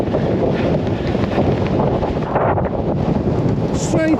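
Strong wind buffets a microphone outdoors on a rail trail at sunset, a loud continuous roaring rumble with gusty swells, a faint voice briefly near the end.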